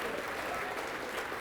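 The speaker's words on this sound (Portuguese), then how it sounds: "Vamos aplaudir mais" A church congregation applauds in a continuous, even roar of many clapping hands, steady and full with no gaps.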